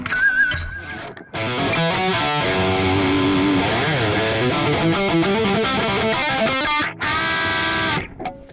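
An electric guitar is played through the pop drive distortion of a Mooer GE250 multi-effects unit, with loud sustained distorted chords and riffs for several seconds, a short gap, then more ringing distorted notes.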